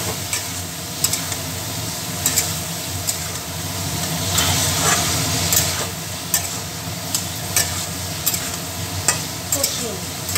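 Ridge gourd stir-fried in a pan for a spicy sarputi fish curry, a loud continuous sizzle broken by repeated spatula scrapes and taps against the metal pan.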